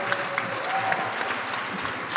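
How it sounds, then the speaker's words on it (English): An audience applauds the technical team backstage at a conference gathering, a steady, dense wash of clapping from a crowd filling the whole moment without pause. "Ladies and gentlemen, a round of applause for our technical team backstage."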